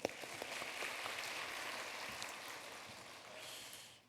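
A congregation at a church gathering claps to welcome a young man who played Jesus; steady, dense applause fills the whole stretch at a fairly low level, fading slightly at the end.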